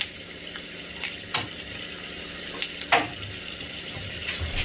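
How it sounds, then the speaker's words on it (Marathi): A garlic and coconut tempering sizzles in hot oil, a steady close hiss with a handful of sharp stirring clicks scattered through it and no speech. "लसूण खोबऱ्याची फोडणी टाकून घ्यायची आहे"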